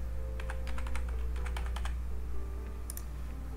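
Keys clatter on a computer keyboard in quick irregular bursts, close and fairly quiet, over a steady low hum, with one brighter tap near the end.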